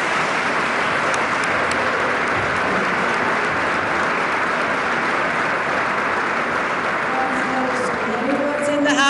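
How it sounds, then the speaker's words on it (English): Steady, full applause from a large audience in a legislative chamber during a state address, continuous dense clapping with a faint voice beginning near the end. "Let's give a round of applause to the cabinet."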